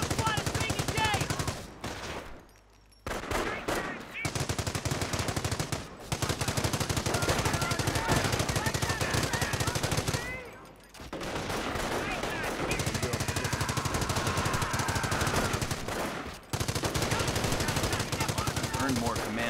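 Machine guns rattle in long, loud automatic bursts during a Company of Heroes battle, broken by brief gaps, with voices calling out over the gunfire.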